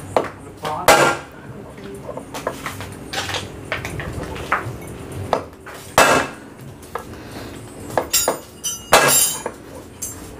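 Hammer tapping on the clutch housing of a Honda Grand motorcycle being repaired for a knocking rattle, sharp metallic knocks in irregular clusters, close and loud over low workshop background.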